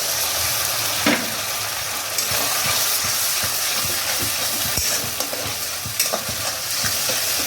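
Sizzling spices for aloo dum crackle steadily in a hot pan as water is poured in, a loud, continuous hiss with scattered pops and brief stirring scrapes throughout, no voices.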